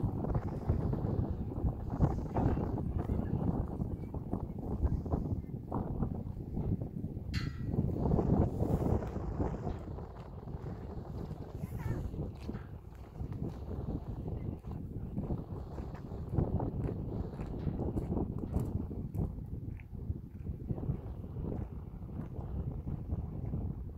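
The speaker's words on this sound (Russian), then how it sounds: "Ветер мешает." Gusty wind blows at the foot of Toratau mountain, buffeting the microphone in a continuous, fluctuating low rumble that swells and eases with occasional faint knocks throughout.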